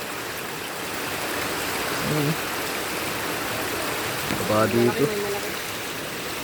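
Water rushes and splashes steadily like a flowing stream, with a person speaking briefly twice over the constant flow, at a river in Bataan, Philippines.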